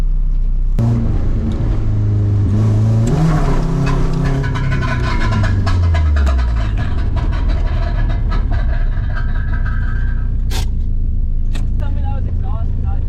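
A Nissan 240SX drift car with a broken exhaust revs hard, its loud engine note sweeping up and down several times before cutting off near the end.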